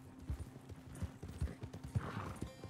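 A horse's hooves clip-clop in a steady trotting rhythm while riding in Red Dead Redemption 2, fairly quiet and close, with a brief snort or whinny-like sound near the end.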